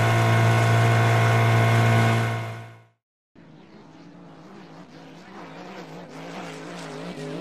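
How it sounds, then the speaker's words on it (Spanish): A loud engine drone fades out, and after a short gap a motorboat engine takes over with a wavering, rising-and-falling hum and watery churn, heard moderately close without speech. "Lancha."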